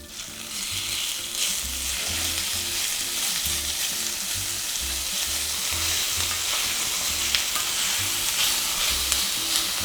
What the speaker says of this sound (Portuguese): Em etapas, eu vou fritar a carne, porque senão acumula muita água.